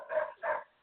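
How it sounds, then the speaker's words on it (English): Dogs give two quick, close barks in succession, short and sharp with a brief gap between them, standing alone without any talking. "Sorry, my dogs are barking."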